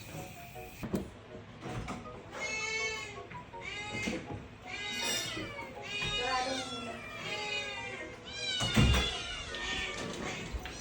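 Several hungry kittens meow repeatedly and insistently at feeding time indoors, overlapping close cries that come in quick bursts, with a brief clatter near the end.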